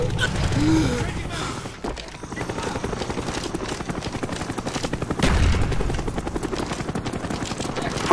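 A Cobra attack helicopter in Call of Duty Black Ops drones with a steady rotor thrum. The sound stays loud and continuous throughout and mixes with other game noise.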